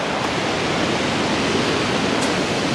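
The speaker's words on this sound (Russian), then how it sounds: "здесь речушки стекающие между этими эллингами в море" Small streams run between boathouses into the sea on a storm-damaged Loo waterfront in Sochi, giving a steady, dense rush of flowing water that stays constant throughout with no voices.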